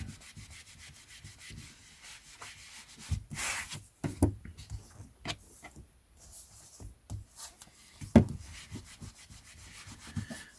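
Vintage book covers being rubbed clean by hand, a soft dry scratchy rubbing that repeats in irregular strokes close up, quiet and without talking.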